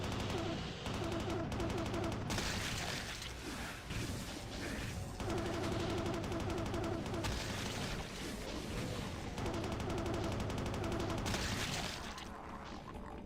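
Sustained rapid minigun fire in the first-person shooter DooM, loud and continuous across most of the stretch with brief dips, mixed with other game combat noise.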